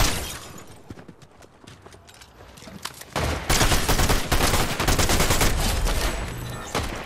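Gunfire in the video game Fortnite: scattered sharp shots at first, then a loud rapid burst of automatic fire that keeps up in dense clattering volleys to the end.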